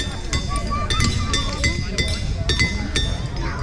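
Ringing rocks at Ringing Rock Park give off repeated sharp metallic clinks as they are struck, sounding at a steady uneven pace amid outdoor rumble and nearby voices.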